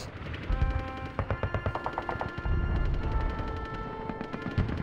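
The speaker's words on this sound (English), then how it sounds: "Murder holes up there! Machine gun nests!" Rapid machine gun bursts in the Conker's Bad Fur Day video game, with loud rhythmic rattling volleys and layered gunfire repeating over a rumbling battle backdrop, no voices.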